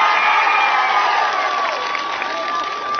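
A live comedy show crowd claps and cheers in a sustained, even roar of applause with whoops and shouts over it, loud and continuous throughout.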